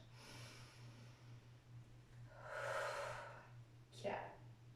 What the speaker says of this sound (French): Des grandes respirations.